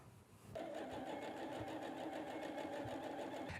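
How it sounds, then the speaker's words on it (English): A sewing machine stitches a quarter-inch seam joining sashing strips to quilt blocks, starting abruptly and then running as a steady, close, rapid mechanical whir with a rhythmic needle chatter and no talk. "line up the sashing strips with the blocks, right sides together, and sew our 1/4-inch seam"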